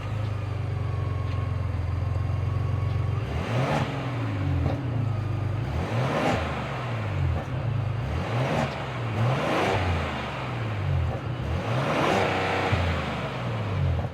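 A high-output 3.5 liter twin turbo EcoBoost V6 in a 2025 Ford Expedition Tremor SUV idles with a deep rumble, then revs repeatedly in sharp bursts, climbing and falling again and again, loud and close.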